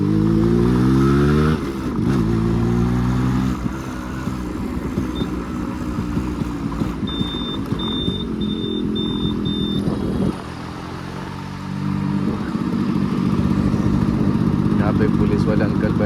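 Stock Yamaha RX 135 two-stroke motorcycle engine running while riding, a loud steady buzzing drone with revs rising and falling and a brief dip in the middle. No talking is heard.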